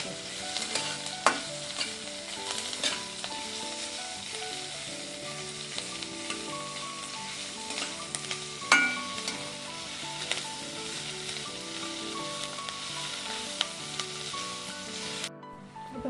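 Onion and garlic sautéing in a pan for a dried-shrimp dish, a continuous close sizzle with steady stirring and scraping and occasional utensil taps, with no talk over it.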